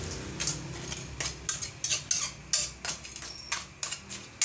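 A ladle stirs squash and crab in coconut milk in a pot, making repeated clinking and scraping strikes against the metal at a steady rhythm, close and moderately loud.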